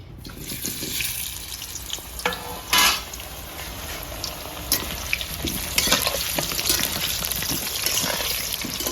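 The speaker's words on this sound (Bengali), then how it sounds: "প্রথমে আমি আলু ভেজে নেবো" Large potatoes frying in hot mustard oil in a village kitchen crackle with a steady, close sizzle, broken by bursts of spattering and stirring scrapes that grow busier toward the end.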